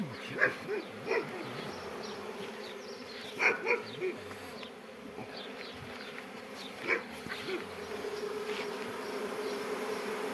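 Bees drone steadily around a hive, a close, continuous buzz with scattered sharp clicks and a few louder passes near the microphone.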